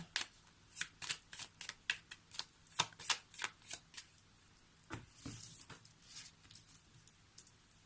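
Lenormand cards shuffled by hand in a quiet room, a long series of crisp riffling flicks and slaps at an uneven, steady pace, close and fairly soft, with no voices.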